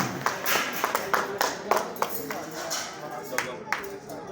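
Scattered, fairly faint hand claps from a small audience at a prize-giving ceremony, a sparse irregular patter rather than full applause, with some voices underneath.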